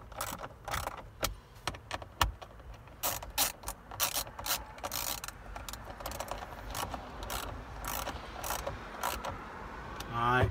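Screws being driven back into an interior panel of a 2017-or-later Ford F-250 during a cabin air filter change, heard as a run of quick ratcheting clicks in uneven bursts, close and fairly clear, with no talk.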